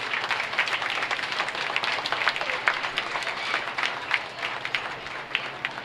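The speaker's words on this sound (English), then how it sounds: "let's give our market hog exhibitors out here a great big round of applause" A county fair crowd applauds market hog exhibitors at the swine show, a dense, steady patter of many hands clapping throughout, moderately loud and slightly distant.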